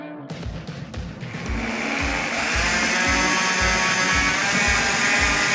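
A power drill with a paddle mixer churns tile mortar toward a pancake batter consistency. It starts with a few bumps, then settles into a steady loud whir with a rhythmic thumping as the paddle turns, close to the listener.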